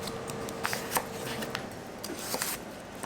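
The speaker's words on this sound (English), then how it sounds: "Cut 1 big carrot into sticks." A knife cuts one big carrot into sticks on a board, quick crisp slicing and tapping sounds close up, soft and continuous, with no talking.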